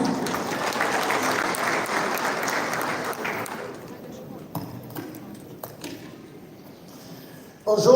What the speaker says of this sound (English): Under your applause.